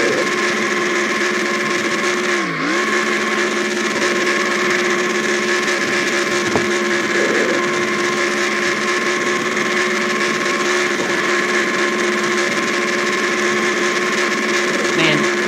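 A NASCAR race car's engine revving hard during a post-race burnout celebration at Dover in the NASCAR Racing 2003 video game, a continuous loud droning roar with a brief pitch dip early on.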